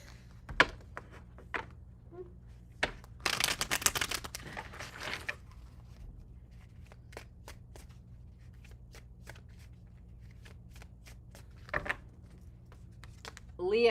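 Tarot cards being shuffled by hand, a close, crisp riffling burst lasting a couple of seconds followed by scattered soft taps and card handling in a quiet room, with a brief voice at the end.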